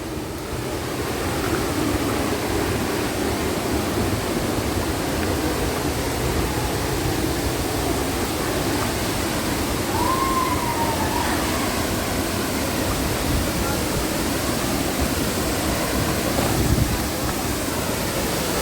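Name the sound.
Kongala waterfall flowing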